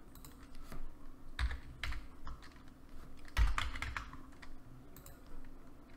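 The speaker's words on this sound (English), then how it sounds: "let's go ahead and type out some text" Typing on a computer keyboard while entering text in design software, with quick irregular key taps and a few heavier strokes, close and fairly quiet, with no voices.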